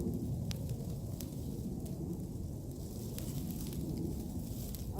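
Rain falling in woodland, a steady dense patter with occasional sharper drop hits, continuous and fairly close throughout, with no voices.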